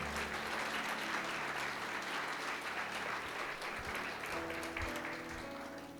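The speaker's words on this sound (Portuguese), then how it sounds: "Você pode aplaudir o Senhor aí bem forte." Church congregation applauding, a dense, even wash of many hands clapping at once, sustained and steady at moderate loudness, with a faint low hum beneath and no clear speech.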